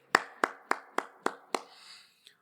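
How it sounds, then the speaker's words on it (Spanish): A church congregation gives six or seven slow, evenly spaced hand claps, close and crisp, followed by a faint last tap after a short pause. "Le damos un fuerte aplauso, hermano, al Señor."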